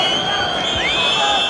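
A packed 1970s English football stadium crowd roars and cheers at half-time, a steady, dense wall of noise with shrill whistles rising through it throughout.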